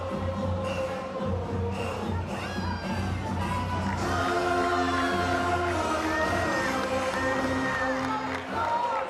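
Crowd noise at a college softball game between UCF and Florida State, a steady roar of cheering and shouts with whoops rising over the din, loud and continuous throughout.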